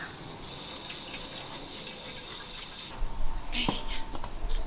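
Tap water runs and splashes steadily while pork skin, already singed, is scraped and washed at a kitchen sink, first as an even rush, then as choppier splashing with handling noises.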